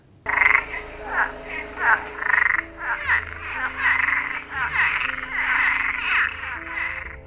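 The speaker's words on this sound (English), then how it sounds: "This is the Cuban tree frog." Cuban tree frogs in Jamaica croak in a rapid series of loud, raspy calls, each about half a second long, repeating steadily and close by with no voices.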